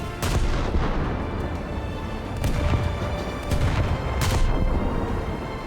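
Naval guns of an enemy Kirov cruiser firing in War Thunder, several heavy booms spaced a second or two apart over a constant rumble of engine and sea, fairly close and loud.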